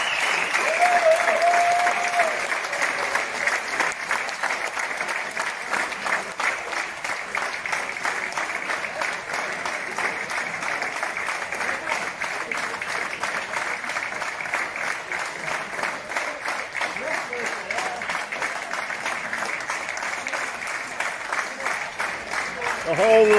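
A room of people applauding steadily at the Iberian Masters feeder fishing festival award ceremony in Spain, dense sustained clapping running for over twenty seconds while a commentator talks over it.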